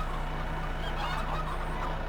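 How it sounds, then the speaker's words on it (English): Fattened chickens clucking in Farming Simulator 15, a dense chorus of overlapping clucks over a steady hum that runs without a break. "Those are the fattened chickens, I guess."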